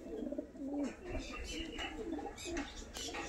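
Low rolling coos come from pet fancy pigeons, Madras and similar breeds, repeating close by in uneven bursts while someone talks quietly in the background.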